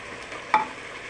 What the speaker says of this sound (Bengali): এটাকে ভালোভাবে নেড়ে চেড়ে ঢাকনা দিয়ে দিব।